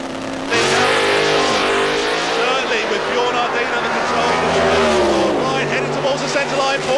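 Alcohol-fuelled drag racing car making a full run at Santa Pod, a loud sustained engine roar building and holding at high revs, with a commentator talking over it.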